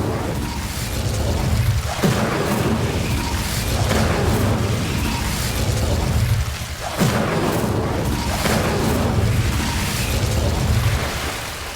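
A fire spell is cast twice in Hogwarts Legacy, each cast a loud whooshing burst over a constant roaring game soundscape, with the two bursts about five seconds apart.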